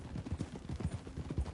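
Horse hooves clip-clop in a steady quick rhythm in a Western video game, muffled and low, a trotting gait continuing without pause and no talk over it.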